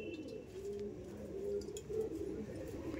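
A male pigeon coos in low, repeated throaty phrases, fairly close and steady throughout, with faint chirps from other birds in the background and no talking.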